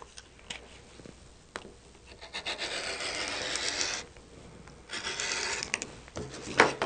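Rotary cutter or blade slicing quilting fabric along the printed selvage line for a border: soft, close scraping and rubbing strokes in two bursts, quiet and without talk.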